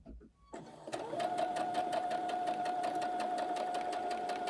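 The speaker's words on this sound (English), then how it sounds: "And then we're going to close this gap from here to the dot." A home sewing machine stitches a seam closed on a colorblock two-piece garment, starting after a brief pause and then running as a steady, fast, even whir with rapid needle clatter.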